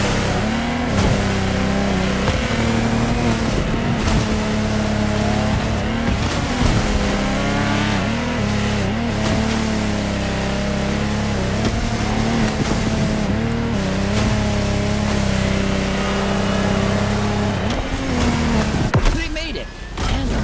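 Lamborghini Technomar speedboats race in The Crew Motorfest, with loud engines revving and rising and falling in pitch almost continuously, under a bed of game sound and voices.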